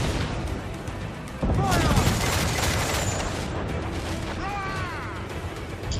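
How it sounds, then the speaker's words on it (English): Ship cannons firing in a naval battle in Assassin's Creed IV: Black Flag, a sudden booming volley followed by rumbling, crackling blasts and whooshes, with faint chirping sounds over the noise. "Anyway, Vane is kind of shooting ineffectually at it"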